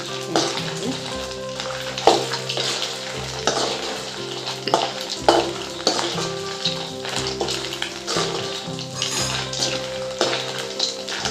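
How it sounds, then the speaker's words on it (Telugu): Chana dal fries in hot oil for lemon rice, giving a soft sizzle broken by repeated clinks and scrapes of a stirring utensil against the pan, with a low background hum running underneath. "మనం శనగపప్పు కూడా వేసేద్దాం కొంచెం ఫ్రై కావాలి"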